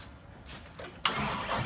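A wrecked and rebuilt 2023 Chevrolet Corvette C8 with a very weak battery: a faint, strained crank, then the engine abruptly catches with a loud, close roar that holds steady to the end.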